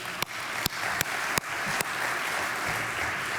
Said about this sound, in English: Let's give Eric a big round of applause